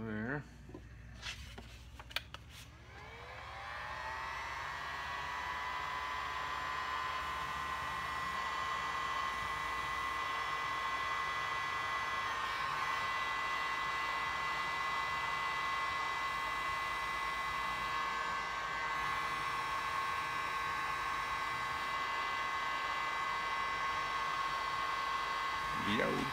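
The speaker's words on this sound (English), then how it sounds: "I'm going to use my heat gun" A heat gun blows continuously during a handlebar install on a 1994 Harley Softail with 16-inch ape hangers, a steady loud whooshing hiss after a brief clatter at the start, running close and unbroken throughout.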